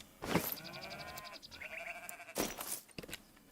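Goats bleat in the farming video game Farmer's Life, two loud wavering cries near and close together, a shorter higher call between them, over a quiet background.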